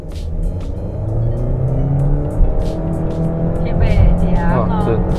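Engine of a 2020 Honda Accord pulling hard under acceleration in Sport mode, a steady rising drone heard from inside the cabin while people talk over it throughout.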